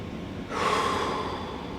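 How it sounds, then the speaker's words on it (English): Slow, easy breath during a yoga hip flexor hold: one steady audible inhale or exhale, close and soft, with no talk. "easy breathing."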